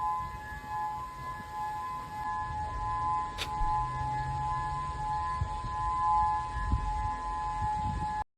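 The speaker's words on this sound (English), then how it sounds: "More views of sirens going off up over inside of Hawaii." Civil defense tsunami warning sirens in Hawaii sound a steady, continuous wail after an 8.9 earthquake, heard at a distance over a constant background rumble, with a brief sharp click partway through.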